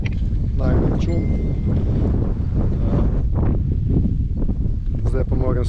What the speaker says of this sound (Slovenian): ker zelo piha, mrzlo je